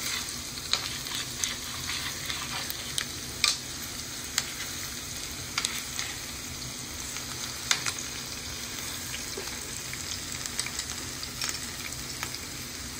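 Saba bananas fry in a little oil for banana cue, making a continuous soft sizzle with scattered crackles and pops, fairly close and steady, with no talk.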